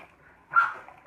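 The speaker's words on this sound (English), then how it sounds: "Sorry, that's my dog." A single short dog bark pops up faintly in a quiet room, brief and somewhat muffled, with nothing else around it.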